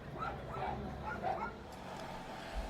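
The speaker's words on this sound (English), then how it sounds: "the guard dogs." Guard dogs at a freight yard outside Marseille bark in several quick, distant yips over a low rumbling background, faint and repeated in a short run.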